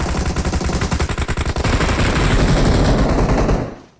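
Sustained automatic gunfire from a battle royale video game, featuring the M762, Tommy gun and AUG, with rapid loud bursts that merge into a continuous roar before cutting off near the end.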